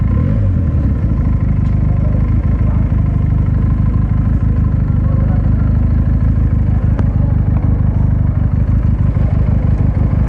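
A Benelli motorcycle engine runs loud and close, a steady rumbling idle with a dense low throb and faint mechanical clatter throughout.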